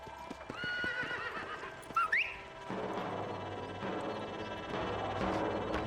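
A horse in the Red Dead Redemption video game gives a neigh with a rising whinny near the middle, after a pitched call, over clip-clopping hooves and steady ambient noise.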